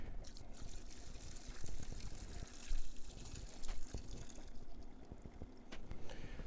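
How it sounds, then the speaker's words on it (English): Beef bone broth being strained, liquid pouring and trickling steadily at close range with small splashes and clinks, no voices. "And we'll continue removing the solids and then the broth."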